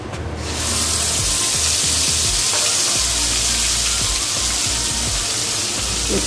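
Coconut, ginger and green chilli paste fries with a split bay leaf in a pan of Bengali cooking, giving a loud, steady broadband hiss that runs unbroken for the whole stretch after a short quieter start.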